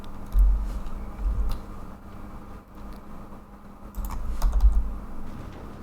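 Keyboard keys and a mouse click in quick, irregular bursts during a computer game session, close and fairly dry over a steady low hum, with no voices.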